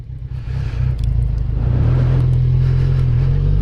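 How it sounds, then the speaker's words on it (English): A motorcycle engine runs close by with a deep low rumble that rises slightly in pitch and loudness as throttle is added, steady and loud, with no talking. "now I'm giving it some throttle"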